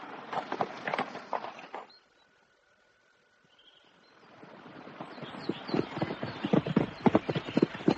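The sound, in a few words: horse hooves clip-clopping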